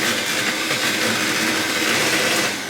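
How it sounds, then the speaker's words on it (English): A whisk churns an egg into chocolate cake batter, giving a steady, close whirring drone that holds for a couple of seconds with no talking. "And then give it a whisk."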